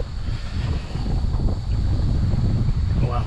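Strong wind buffeting a microphone aboard a boat, a loud continuous low roar and rumble sustained throughout, close and dominant, with no clear talk.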